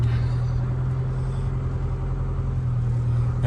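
A box truck's engine runs steadily on the road, a continuous low hum and rumble with constant road noise and no breaks.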